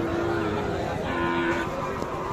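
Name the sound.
cattle lowing at a livestock market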